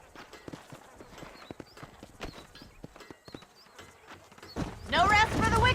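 Horse hooves clip-clop at a walk in the Red Dead Redemption video game, a close, uneven patter under spoken dialogue, before louder game music and sound swell in near the end.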